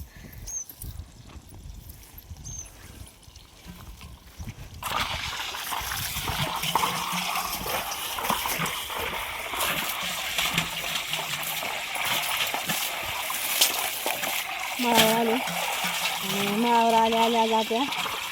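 Steady gushing water pours continuously into containers after a quieter start, like a tap filling a vessel, with a few faint mechanical whines near the end.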